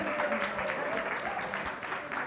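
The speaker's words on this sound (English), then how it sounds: "can we have a round of applause" Audience applause for Hrithik Roshan at his launch as brand ambassador for the Happn dating app, a steady wash of many hands clapping close and loud throughout.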